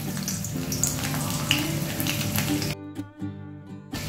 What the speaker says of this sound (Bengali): কড়াতে সর্ষের তেল দিয়ে দিয়েছি। এবার আমি এতে তিন কোয়া রসুন দিয়ে দিলাম।